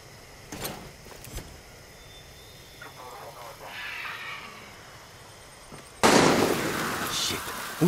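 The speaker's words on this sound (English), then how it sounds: "Who's shooting?" Gunfire in the video game Far Cry 6: a few sharp distant cracks early, a quieter stretch, then a loud, sustained burst of shots and noise near the end.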